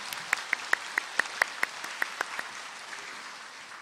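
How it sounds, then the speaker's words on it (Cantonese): A few people clap at a kindergarten graduation ceremony to thank the school principal, a faint, sparse run of distinct individual claps that slows and thins out. "請大家再以熱烈嘅掌聲，多謝張麗珠校長嘅光臨"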